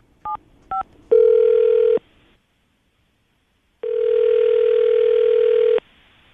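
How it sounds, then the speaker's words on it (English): A landline telephone placing a call: two short dialing tones, then a steady ringback tone lasting under a second, a pause of silence, and a second longer tone, all clear and close. "we're going to call her right now, see if we can get her on the phone"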